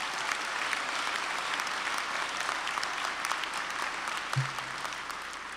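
Applause at a college commencement ceremony, a large crowd clapping steadily and fairly distantly for several seconds, dense and even, tapering slightly at the end, with no speech over it.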